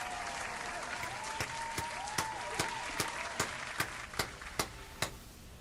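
Clapping for raid participants during a live City of Heroes session comes as a dozen or so crisp, evenly spaced claps in a steady rhythm. They are close and fairly quiet, with a faint background hum.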